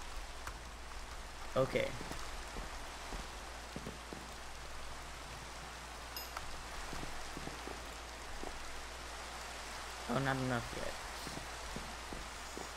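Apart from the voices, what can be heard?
rain in video game Minecraft SkyFactory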